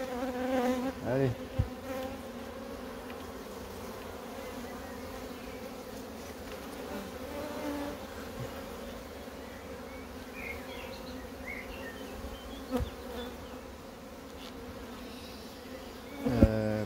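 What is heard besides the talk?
honeybees buzzing at open beehive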